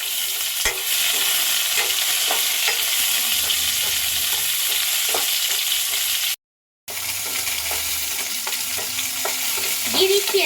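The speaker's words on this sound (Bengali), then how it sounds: "আমটা এবার নাড়াচাড়া দিয়ে নেবো" Cut mango being stirred into sour dal in a pan with crackled dried red chillies: a steady frying hiss under repeated scraping strokes, with a brief gap partway through.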